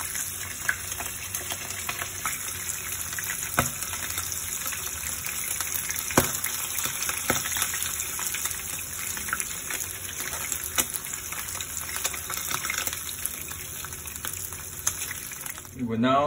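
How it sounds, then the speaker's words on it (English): Shishamo smelt frying in hot oil, a continuous hissing sizzle with scattered pops and crackles, steady and fairly close, with a brief clatter at the end. "We will now continue to fry the rest of the smelt."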